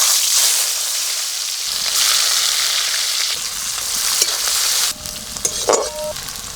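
Onions fry in white oil, a loud, dense sizzle close by that surges and shifts as they are stirred, with a few utensil clinks toward the end and no voices.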